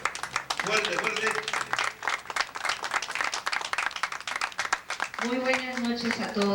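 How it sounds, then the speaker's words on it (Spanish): An audience claps for a speaker at a memorial gathering, steady applause lasting several seconds while a voice speaks over it. "Aplauso para la señora Jacqueline, por favor."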